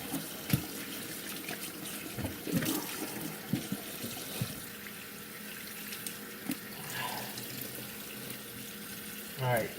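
Raw turkey washed under a running kitchen tap, steady water flow with irregular splashes and knocks as the bird is handled, moderately close, with faint voice sounds in places.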